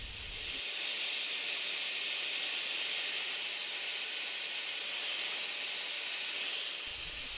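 An angle grinder disc grinding the opening of a steel cone wrench gives a steady, harsh hiss that runs almost the whole time with no change. It starts and stops abruptly, with no voices.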